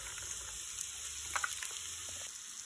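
Diced ham frying with garlic in oil in a pan, a steady close sizzle throughout with a few brief crackles and stirring touches.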